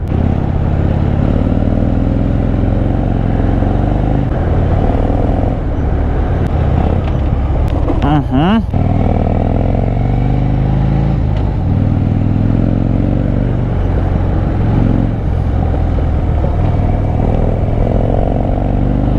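A Harley-Davidson motorcycle rides along a scenic road in the Pauri area of Uttarakhand. Its engine gives a loud, continuous drone mixed with wind rush, with a brief rise in revs midway.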